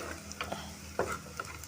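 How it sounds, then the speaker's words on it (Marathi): Onion sautéing in a pan for a Konkan-Goa style prawn curry gives a faint, quiet sizzle with a few soft spatula scrapes and taps over a low steady hum. No one speaks. "तर कांदा थोडासा परतून घेते,"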